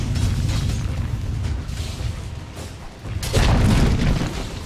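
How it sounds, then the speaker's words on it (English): Dota 2 tower collapsing in a ranked match, a loud low-heavy rumble of crumbling impacts that swells into a second, louder boom near the end. "Dire's bottom tower has fallen."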